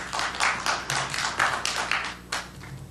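Audience in a legislative committee hearing room claps and cheers, a run of loud, overlapping applause bursts and whoops carrying on for about three seconds without speech.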